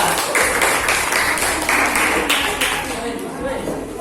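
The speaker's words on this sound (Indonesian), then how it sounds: "Tepuk tangan buat kelompok 3" A classroom of students claps for a group after its presentation, a dense burst of applause that gradually eases off, with voices underneath.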